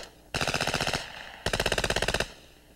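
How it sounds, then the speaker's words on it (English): FN Herstal P90 submachine gun firing two rapid automatic bursts, each about a second long and packed with sharp evenly spaced shots, loud and close, separated by a brief pause. "the P90 delivering its firepower, whatever the conditions"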